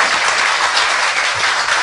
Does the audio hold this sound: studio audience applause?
yes